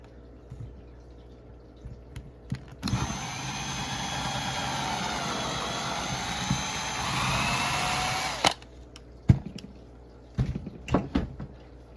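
A power drill enlarges the original hole in a plastic pinion gear for an MJX Jetwood 26-tooth install on a 1/14-scale RC truck, whining steadily and close for about six seconds, framed by small handling clicks and taps before and after.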